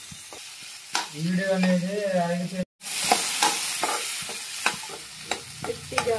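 Paneer cubes frying in hot oil for a paneer masala curry, a continuous close sizzle with stirring clinks, briefly cut out midway, while someone speaks briefly.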